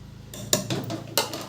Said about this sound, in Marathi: ते एका ठिकाणीच राहू नये म्हणून असं पळीने मिक्स करून घ्यायचं